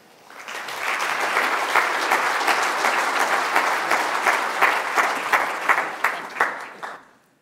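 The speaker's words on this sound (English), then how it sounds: "So please give Olivia Elliott a big round of applause." Audience applause greets a speaker taking the stage at a business conference on labour standards in African manufacturing: dense, steady clapping that swells quickly, holds for about six seconds, then thins into scattered claps and fades.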